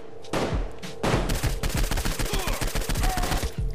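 Automatic gunfire in the video game Saints Row 4 hammers out in loud, rapid bursts, falling into a fast rhythmic chatter of repeated shots that runs almost without pause.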